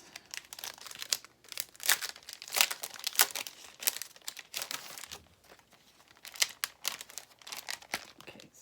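Plastic packaging holding laser-cut mats crinkles and crackles close by in bursts of irregular rustling, some louder and some softer, over several seconds with no speech.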